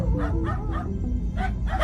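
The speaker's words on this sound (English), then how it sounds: "it was just a bunch of dogs losing their minds, barking at something off screen" Several dogs bark and yip in excited, overlapping bursts on a quiet street at night, the barks close and loud with short whimpering yelps between them.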